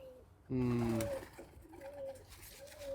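Pigeons kept in a loft coo in low, throaty phrases, one strong nearby call followed by softer repeated coos, over light background noise.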